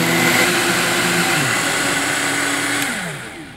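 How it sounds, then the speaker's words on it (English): An Omega BL630 commercial blender and a Vitamix Turboblend run at once on coconut milk, a loud, steady motor whine whose pitch slides slightly before winding down at the end. "you can hear the RPMs aren't quite as quick on the Omega as on the"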